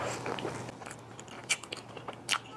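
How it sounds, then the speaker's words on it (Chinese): Close, soft bites and chewing on a yellow cheese mammoth bun with a meat-floss filling, giving faint crunches and a couple of sharper crackly bites. "接下来尝尝我从来没有吃过的猛犸包， 是黄芝士的"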